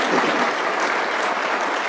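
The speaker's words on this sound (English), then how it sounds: "So let's give them a big round of applause." Steady applause from a sizable audience at a city State of the City address, dense continuous clapping at an even level with no voices standing out.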